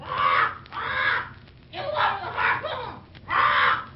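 A parrot in an old radio drama, three harsh raspy squawks in uneven bursts, close and loud, with a voice squawking and chattering between them, likely a performer imitating the bird.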